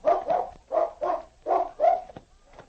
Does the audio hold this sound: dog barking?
yes